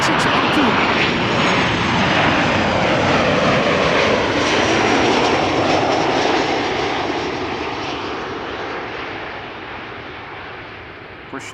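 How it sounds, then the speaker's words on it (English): A Transavia Boeing 737 lands at Amsterdam Schiphol Airport with a broad, roaring engine rumble that fills the scene and slowly fades as the aircraft passes. "Transavia is landing here in a moment, arriving from Innsbruck. 737"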